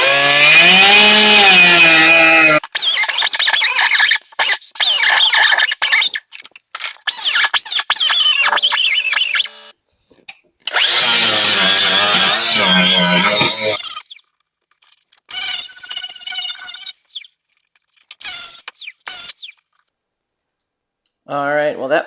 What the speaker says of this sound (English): Took my whiz wheel and got the majority of it off, and then I came back through with my flat disc on my grinder